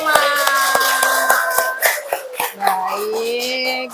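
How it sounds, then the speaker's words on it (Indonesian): A classroom group in a teacher-training lesson on zakat calculation gives scattered hand claps for the fifth group's presentation, sharp and close, under steady talking and voices. "Tepuk tangan untuk kelompok kelima."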